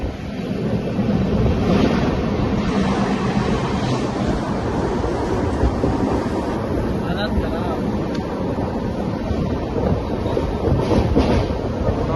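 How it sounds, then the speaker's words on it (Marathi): A local commuter train in Maharashtra gives a steady, loud, broadband rumble and rush of wheels and wind throughout, heard up close with wind buffeting the microphone. "आता आम्ही लोकल ट्रेनची वाट बघता"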